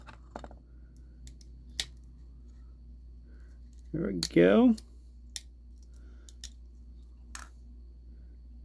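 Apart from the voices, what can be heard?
cutters snipping support pieces off a model build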